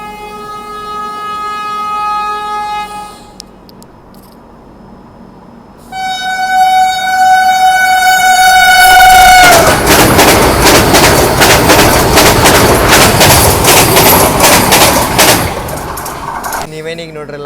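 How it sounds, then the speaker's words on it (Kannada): A Vande Bharat Express running from CSMT to Madgaon sounds long, loud horn blasts, then roars past up close with a heavy rumble of wheels and carriages. "ಅದು ಬಂದ್ಬಿಟ್ಟು CSMTಯಿಂದ ಮಡಗಾಂವ್ ಹೋಗುವಂಥ ವಂದೇ ಭಾರತ್ ಎಕ್ಸ್ಪ್ರೆಸ್ ರೀ"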